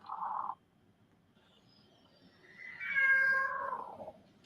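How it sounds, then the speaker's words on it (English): A computer-generated cat gives a single drawn-out meow, rising then falling, heard faintly after a short unrelated burst of noise at the start. "A little meow."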